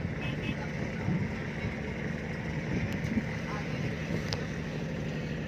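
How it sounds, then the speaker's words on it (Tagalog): A fishing boat's engine running, a low steady droning rumble heard throughout beneath voices talking. "umandar yung makina ng mga kaidol"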